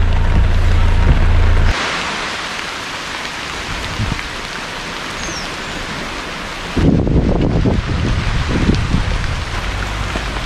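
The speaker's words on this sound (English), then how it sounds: "I made a stop in the rain here on the beach." Steady tropical rain on a beach at Praslin, Seychelles, falls with a constant hiss, and a heavier rumbling wash of surf or rain-on-surface noise rises near the end, all without talk.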